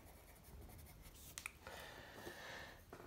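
Graphite pencil shading on paper while sketching a black bear: a continuous soft, dry scratching of close strokes, quiet and steady with a couple of sharper ticks, and no talk.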